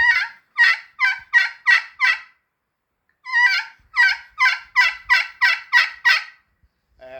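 A friction turkey call, slate or copper, works out a basic yelp: two runs of sharp, evenly spaced yelps, about five notes then eight or nine after a pause, loud and close with no talk.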